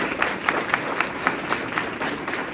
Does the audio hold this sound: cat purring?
no